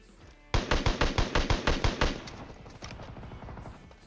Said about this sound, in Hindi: कम से कम अब मेरे पे एक ऐसी गन है जिसमें फायर दबाने पे गोलियां लगातार निकलती हैं।